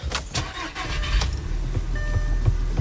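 A car fitted with 034Motorsport 2.0T parts cranks and fires up, a brief starter whir giving way to a close, steady idle with low throbbing pulses, no talking.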